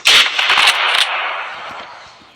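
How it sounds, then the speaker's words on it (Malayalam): Gunfire from a night hunting session in a video game: a rapid cluster of sharp, loud shots in the first second, then a fading rumbling tail with no speech. "ഒരു വെടിക്ക് നമ്മളതിനെ കൊന്നിരിക്കുന്ന."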